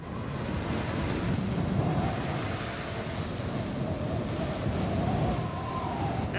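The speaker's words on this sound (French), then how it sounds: "La vache, le vent est super violent." Strong wind blows hard and steadily across the microphone near a tent, a loud continuous roar with gusty rumble throughout and no speech.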